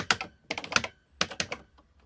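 A Wi-Fi password being typed on a computer keyboard: close, crisp key clicks in quick clusters of strokes with brief pauses between bursts, and no talking.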